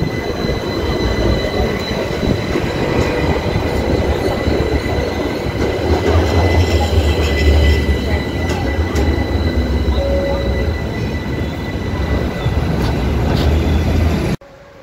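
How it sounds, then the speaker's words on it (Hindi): A tram rolls through a street in Florence, a steady close rumble of wheels on rails with faint squeals and a low hum running the whole time, fading out abruptly at the end. "अभी ये ट्राम चल रही है"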